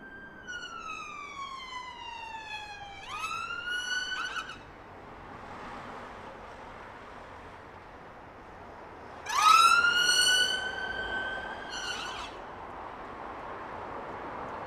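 Wailing ambulance siren at Heathrow Airport near the northern runway, two bursts of rising and falling tone a few seconds apart, fairly close and loud over steady traffic and airport rumble.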